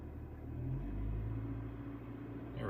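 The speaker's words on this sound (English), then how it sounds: "So we're going to start the car." A car's engine runs as a low, steady idle rumble, quiet and continuous, with a slight swell in the middle and no voices.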